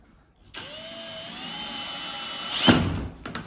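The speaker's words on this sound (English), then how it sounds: "So we confirmed our measurement, we can start drilling." A drill fitted with a hole saw starts with a sudden whine and holds a steady high tone while cutting a hole for a shower install, ending in a short loud grinding burst before stopping.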